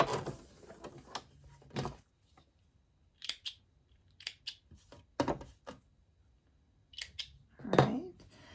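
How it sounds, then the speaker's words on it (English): Scissors snip through thread down the center of sewn fabric in a handful of brief, crisp cuts spaced over several seconds, close and fairly quiet, with soft handling noise between. "take my scissors, cut right down the center"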